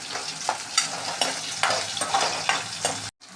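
Crushed garlic cloves and cumin seeds fry in hot oil in a pan, giving a steady close sizzle with periodic scraping stirs, ending in a brief cutoff.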